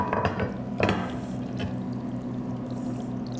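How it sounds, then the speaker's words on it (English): Thick mac and cheese mixture with cheddar being poured into a baking dish, a close wet glopping pour with a few soft clinks, then a low steady hum in a kitchen. "I'm just going to pour it right into this beautiful baking dish here."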